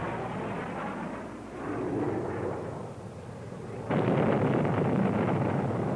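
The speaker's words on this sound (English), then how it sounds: "Again, Sterrett successfully engaged the target, destroying the attacking missile." A Standard missile intercepts and destroys an attacking surface-to-surface missile, heard as a steady roaring rumble that swells midway and then jumps to a louder, harsher blast-like roar near the end, with no voices.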